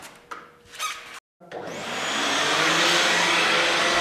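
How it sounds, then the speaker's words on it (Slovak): A vacuum cleaner fitted with a dust attachment starts up after some brief handling noises and a short pause, then runs with a loud, steady, broadband whooshing roar that holds to the end. "Jednoducho ho nasadím na vysávač"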